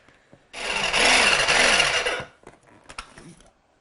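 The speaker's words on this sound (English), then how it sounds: "Now I'm going to just put the lid on and whisk this up until it's nice and smooth." A blender whisks garlic sauce with black pepper and salt under a lid in a loud, close, whirring burst of under two seconds that rises in pitch, followed by a few faint clicks and handling sounds.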